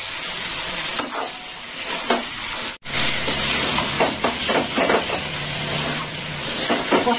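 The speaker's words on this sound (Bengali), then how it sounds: "আর একটু কষে নেব।" Fried potatoes and okra sizzling as they are stir-fried in a pan for dahi bhindi, a steady hiss with soft scraping and clinks of a spatula throughout.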